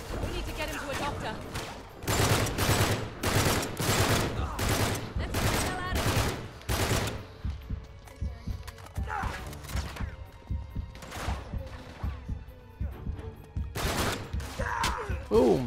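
Gunfire from the Uncharted 3 video game rattles in bursts of sharp shots, loud and rapid early on, then sparser scattered shots with voices talking over the fighting.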